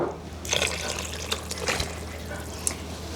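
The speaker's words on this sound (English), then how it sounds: "And we're going to add some broth," Two quarts of broth poured over chicken and a couple of cups of peas in a freezer-meal container, a soft liquid splashing and trickling in brief bursts, fairly quiet and close with no talking.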